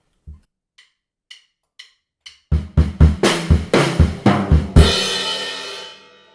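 A drum fill: a few soft ticks first, then a quick run of loud tom and snare hits that ends on a crash cymbal ringing out, played close with no voices.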